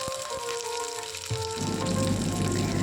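Chopped ginger frying in hot oil with mustard seeds and curry leaves, a bubbling, crackling sizzle that swells louder partway through and keeps going close up.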